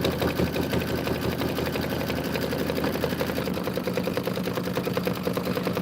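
A Kimberbell embroidery sewing machine stitches out a design, a loud, close, fast and steady mechanical chatter of needle strokes that runs without pause.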